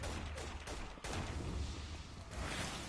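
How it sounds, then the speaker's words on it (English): Gunshots crackle in a video game, a quick fusillade of sharp reports against dense background noise over a few seconds. "I heard shots."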